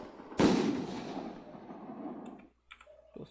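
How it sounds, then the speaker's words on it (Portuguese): A loud firework burst in the Brazilian survival video game Raised in Oblivion: one sharp blast followed by a long crackling rumble that fades out over a couple of seconds, then faint scattered clicks. "Esses fogos também assustam"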